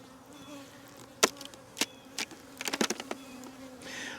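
Honey bees buzz at close range around a hive during a colony split, short loud buzzing passes and clicks over a faint, steady background hum.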